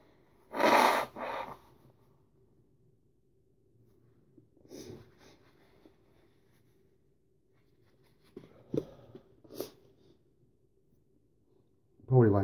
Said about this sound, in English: Excuse me while I just blow my nose before I do anything.